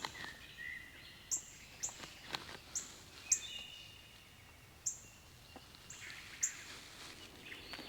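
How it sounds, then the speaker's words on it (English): Birds chirping on a mild, cloudy morning at a campsite, with sharp high chirps repeating at irregular intervals over a quiet background and a fainter trill early on. "You can hear all the birds chirping."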